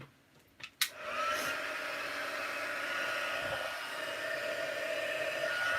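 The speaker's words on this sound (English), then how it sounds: "let's heat this before I end up smudging it as well" After a few clicks, a heat tool starts up and blows a loud, steady rush of hot air over embossing powder on an inky card background, continuing unbroken to the end.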